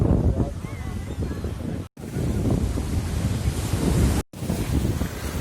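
Ocean surf on a Lisbon beach, steady rushing waves with heavy wind buffeting the microphone, continuous and fairly loud with two short dropouts.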